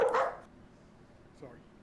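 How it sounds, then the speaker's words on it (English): Dogs bark once loudly and briefly, then a fainter second bark follows after a pause, heard in a quiet indoor setting. "Dogs are barking."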